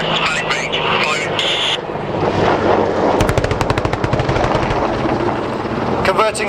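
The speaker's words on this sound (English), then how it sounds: "10 round bursts, valid range, firing." An Army Air Corps Apache attack helicopter fires its gun in rapid bursts during an air display demo at Cosford, a fast rattling volley cutting through the loud, continuous rotor and engine roar.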